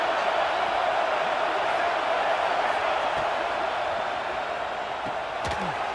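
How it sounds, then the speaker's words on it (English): Football stadium crowd roaring to fire up the defense before a red zone stand, a sustained, loud wall of cheering and noise throughout, fading slightly near the end. "And here comes the noise. This crowd is trying to inspire this defense to make a big red zone stop."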